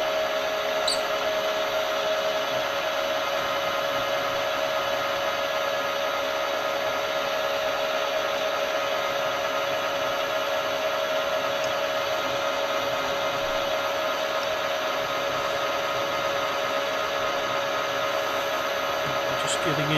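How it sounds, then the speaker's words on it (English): A lathe cuts a countersink with cutting oil on workshop tooling for a lantern chuck, giving a steady, continuous machine whine and drone at a constant level for the whole stretch. "Just getting into the countersink area now."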